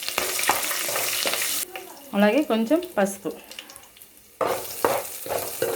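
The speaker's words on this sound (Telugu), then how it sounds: "ఇప్పుడు ఇందులో పోపు దినుసులు, అలాగే ఒక ఎండుమిర్చి ఫ్రై అవ్వాలి." Tempering spices and a dried red chilli sizzle and crackle in hot oil on the stove, a steady loud frying hiss that drops away midway while a voice speaks, then returns strongly.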